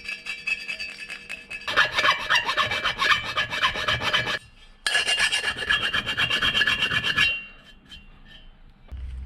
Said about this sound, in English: We'll just hit that with a file and just clean that back so it can seal nicely.